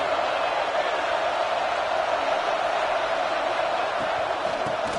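A college football stadium crowd during a Purdue home game against Texas, a dense continuous roar of cheering voices swelling steadily on a big third down, loud and sustained throughout.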